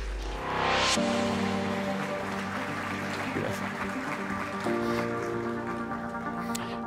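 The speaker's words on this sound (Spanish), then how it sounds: "Le damos un fuerte aplauso entonces a John Atkinson" At a science conference, the audience applauds speaker John Atkinson with a broad, hissing spread of clapping that carries under a sustained tonal hum and distant background sounds.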